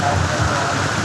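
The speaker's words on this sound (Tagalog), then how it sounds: "Sobrang lakas ng ulan talaga mga idol." Heavy rain pours down on a mountain, a loud, dense, unbroken roar of drops hitting surfaces up close.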